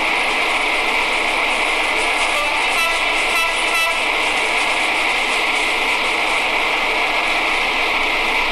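Rolling, sustained rumble of a big train moving in the Android game Train Sim, steady and fairly loud throughout, with faint horn-like tones midway and no talking.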